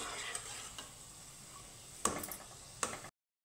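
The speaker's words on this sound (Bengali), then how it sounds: "মিষ্টিগুলো এইভাবে ভাজতে হবে আমার" Gulab jamun sweets frying in hot oil, a soft continuous sizzle with light stirring and two sharper clinks of a utensil against the pan near the end before it cuts off.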